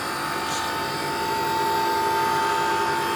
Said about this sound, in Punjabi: ਚੱਲਦੇ ਪਏ ਆ ਪਾਲਿਸ਼ ਕਰਦੇ ਪਏ ਆ